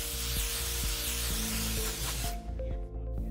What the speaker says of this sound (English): spray the spring duct with some grease